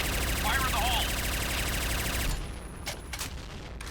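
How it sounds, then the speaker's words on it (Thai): Rapid automatic fire from an AS Val rifle in the Point Blank shooter game, a dense, continuous burst lasting about two seconds before breaking into a few scattered shots and quieter game noise. "หน้าตาปืนก็ประมาณนี้แหละครับผมเวลายิงก็จะยิงเร็ว"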